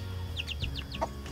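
Mother hen clucking in a short run of about five quick, close clucks, followed by one lower cluck, over a steady low background hum.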